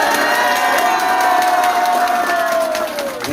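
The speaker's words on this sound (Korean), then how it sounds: "박수로 시작하겠습니다, 여러분." Loud crowd applause and cheering at the opening of a Korean election candidate's campaign office, with dense clapping, shouts and whoops throughout that ease slightly at the end.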